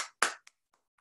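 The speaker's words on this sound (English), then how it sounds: "So give yourself a round of applause for that." A short burst of hand clapping from a small audience at a virtual business week event, followed by a few scattered, fainter claps that quickly die away into silence.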